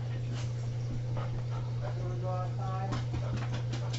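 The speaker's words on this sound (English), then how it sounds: "Our dogs are barking at kitties." Several dogs yelp and whine in short bursts at cats, over a steady low electrical hum, with a voice talking faintly in the background.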